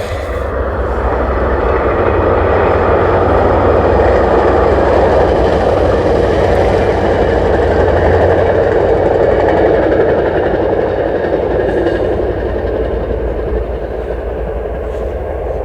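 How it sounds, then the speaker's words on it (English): A short passenger train rumbles past steadily and loudly for the whole stretch, a continuous roar of wheels and engine with no voices. "Short little passenger train."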